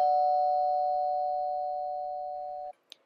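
A steady electronic doorbell-like tone holds for over two seconds, then cuts off, followed by a short sharp click; clean and alone, fading slightly as it sustains.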